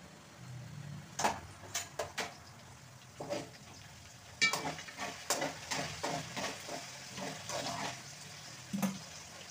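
Elephant foot yam frying in oil with curry leaves in a pan, stirred in repeated scraping strokes over a steady close sizzle, with occasional louder clacks of the utensil and no talking.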